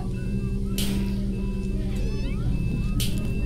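A cat meows in the Roblox video game, a few short cries over a steady droning game background with electronic tones, loud and close.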